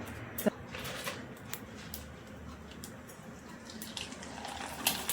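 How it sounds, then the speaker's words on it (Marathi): Sun-dried rice flour papad frying in hot oil, giving a steady crackling sizzle with scattered sharper pops and no voices. "चला तर मग आता हे तांदळाचे पापड आपण तळून बघूया"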